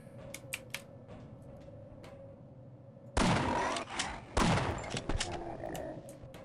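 Shotgun blasts in the PC game Half-Life, two loud booming shots a second apart, standing out above a lighter background of clicks and game ambience.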